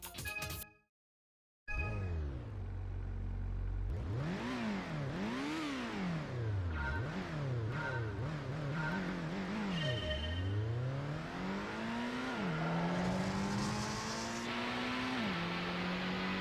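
Race car in Gran Turismo accelerating through a drag race, engine pitch climbing repeatedly through gear changes after a brief silence, loud and close, with rising revs toward the end and no talk.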